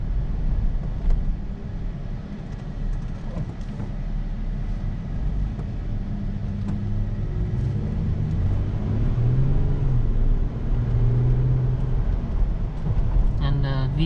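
Inside a 2015 Toyota Tacoma SR5 with a V6 while driving, a steady low engine and road drone holds throughout. A rising whine comes near the end.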